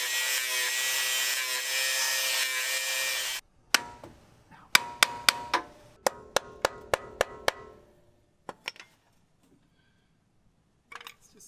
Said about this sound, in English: I'm like fucking up the bumper more than I'm cutting through this thing